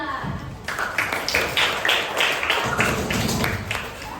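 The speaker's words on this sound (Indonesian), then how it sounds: "Tepuk tangan untuk kelompok 9." Students in an Indonesian-language classroom clapping for group 9, a short burst of hand claps that starts after a brief pause and carries on as a brisk, uneven patter of close, fairly loud claps.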